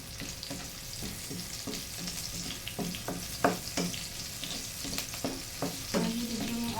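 Garlic and onion sauté in a hot pan for a Filipino stir-fried kangkong dish, a steady sizzle broken by repeated scraping and stirring clicks of a utensil, with no voices.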